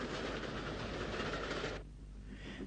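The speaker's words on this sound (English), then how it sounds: "on this occasion a jeep has been pressed into service to haul a failed railcar set." A jeep hauls a failed railcar set along Irish railway track: a steady, close rail rumble with wheel clatter that drops abruptly to a quieter roll near the end.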